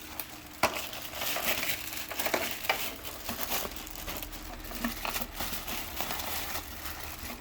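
Glass products being packed securely with foam for shipment: continuous crinkling, crushing and rustling of foam and packing material, close and moderately loud, with irregular sharp crackles and handling bumps throughout.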